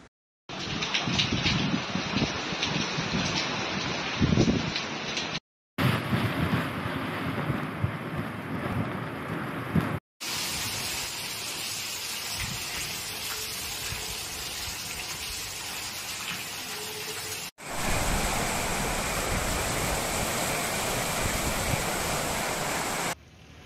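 Extremely severe cyclonic storm Biparjoy lashing the coast with heavy rain and strong wind, a loud, steady roaring wash of noise across several cut segments, with no voices.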